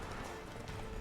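Horse hooves galloping in the video game The Witcher 3 while exploring Skellige, a steady dense clip-clop rhythm filling the whole stretch with a constant loud wash of game sound.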